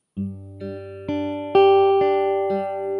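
Fingerpicked guitar notes ring out one after another in a steady, unhurried pattern, each pluck sustaining into the next, played alone and close.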